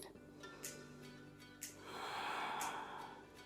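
Slow, soft breathing during a stretching hold, with a few brief nasal sniffs followed by a longer, gentle exhale; quiet and close.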